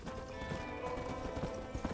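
Horse hooves clip-clopping in Red Dead Redemption on PS3, a steady rhythmic trot of close, clear hoofbeats with a brief whinny-like tone mixed in, no talking.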